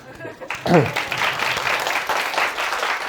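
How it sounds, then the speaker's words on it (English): Audience applause at a public lecture on global warming, a steady wash of many hands clapping that swells after a brief quiet start and continues evenly, with a voice briefly heard near the beginning. "thank you very much. And a little applause."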